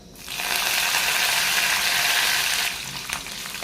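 Curry leaves and spices hit hot oil in a pan, bursting into a loud, bright sizzle that holds steady for a few seconds before easing into softer crackling.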